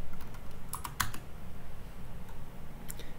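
An SQL query is typed on a computer keyboard, with quick clustered keystrokes clattering close and clear, a dense burst early on and a few scattered taps later, over steady low room hum.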